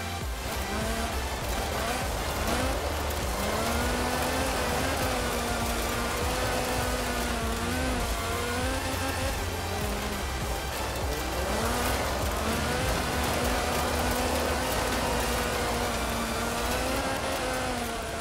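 A 1979-era Renault 5 Turbo races in Forza Horizon 4, its engine droning steadily and close with rising and falling revs through gear changes, mixed with tyre noise throughout.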